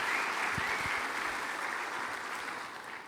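A live audience bursts into steady applause at a Portuguese-language motivational talk, a dense wash of clapping that holds loud and even for the full few seconds before easing slightly.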